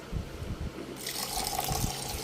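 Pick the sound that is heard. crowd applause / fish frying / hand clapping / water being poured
water being poured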